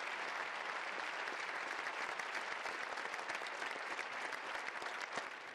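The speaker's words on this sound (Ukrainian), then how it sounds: "І знову щирі аплодисменти." Applause for the Ukrainian president in the European Parliament chamber, a large audience clapping in a dense sustained burst that stays loud and even throughout.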